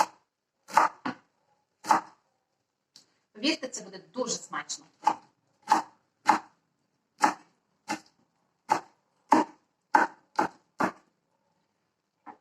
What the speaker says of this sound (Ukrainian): листя бурячка, червоного бурячка. Теж ми його нарізаємо.